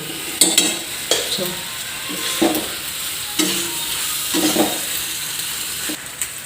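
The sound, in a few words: stirring macaroni pasta with mayonnaise in a pan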